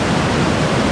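Nabuyole waterfall in Webuye, Kenya, roars as a steady, dense wash of falling water, loud and close, with no gaps and no voices.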